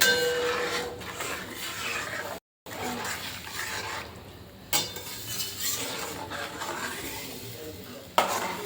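A rotlo mixture being stirred in a pan for Kathiyawadi vaghārelo rotlo, with soft scraping and clinking of a spoon against the pan over a faint sizzle, steady and close, with a brief pause and a couple of sharper knocks.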